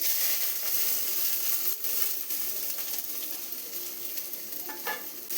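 Mustard seeds, cumin, pepper, garlic and curry leaves fry in hot oil, giving a continuous bright sizzle with scattered crackles and pops, close by and without any talking.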